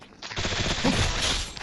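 Rapid bursts of automatic gunfire in the Free Fire mobile game sound close and loud, a dense rattle running almost continuously after a brief quiet start.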